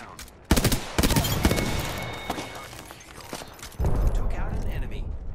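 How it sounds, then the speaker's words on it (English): Automatic and single gunshots in the Apex Legends battle royale game, with sharp bursts cutting in near the start and again later, layered over continuous game action and occasional player chatter. "opening fire on the enemy"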